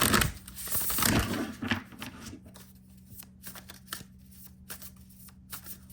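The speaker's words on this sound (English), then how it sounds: "I'll go ahead and shuffle the decks in front of you." Tarot cards are riffled and shuffled close by, a burst of rapid flapping that thins into scattered soft taps and slides.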